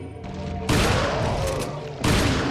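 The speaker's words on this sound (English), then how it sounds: "that guy took 5 rifle shots" Rifle shots in Resident Evil 4 on professional mode, loud booming blasts with long rumbling tails, two heavy bursts close together over a busy game soundscape.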